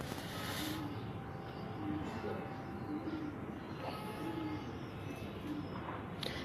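Breeder pigeons coo in soft, repeated low calls at a steady rhythm, spaced every second or so under a constant background hiss and faint hum.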